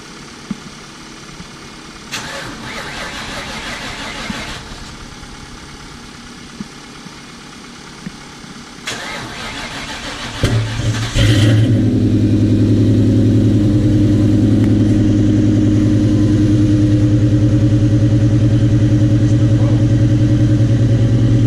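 Car engine cranked on a cold morning outdoors with a troublesome exhaust, intermittent starter bursts followed by a loud, steady engine drone that rises and holds, with no talk over it.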